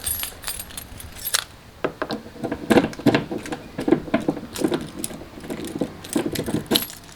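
A set of car keys for an R33 Skyline jangles and clinks in the hand, with bursts of metallic rattling through the whole stretch, close and fairly loud, with no talking.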